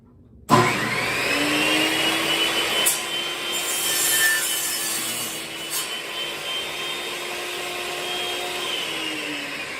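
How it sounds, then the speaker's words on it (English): A table saw whines steadily as it cuts through wood, a continuous loud rasping hum with a brief dip midway, no voices. "because the table saw is so noisy, I keep ear protection"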